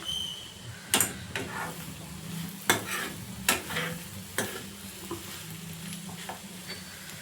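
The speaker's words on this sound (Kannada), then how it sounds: "ಇವಾಗ ನಾವು ಮೇಲೆ ಕೊತ್ತಂಬರಿ ಸೊಪ್ಪು ಹಾಕೋತಾ ಇದ್ದೀನಿ. 1 ರೌಂಡ್ ಮಿಕ್ಸ್ ಮಾಡ್ಕೊಳ್ಳಿ." Egg bhurji with fresh coriander leaves being stirred in a hot pan, a spoon scraping and knocking the metal in irregular strokes over a continuous close sizzle, with no talking.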